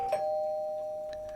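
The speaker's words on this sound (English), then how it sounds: "The doorbell rings." A doorbell gives a single clear electronic chime that holds a steady pure tone before fading, with nothing else around it.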